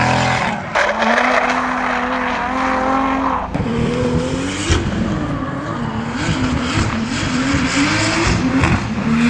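A drift car on a track in Kyiv, engine roaring loudly and steadily under acceleration with a continuous tire squeal and skidding over it, close and sustained throughout.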